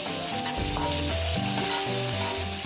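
Curry leaves crackle and sizzle in hot oil with mustard seeds, chana dal and urad dal, a steady close frying hiss with light stirring, no voices.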